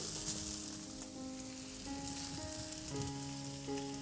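Kundru (ivy gourd) and potato sabzi cooks with spices in a pan, giving a low, even sizzle. Sustained melodic tones run alongside it, and no one speaks.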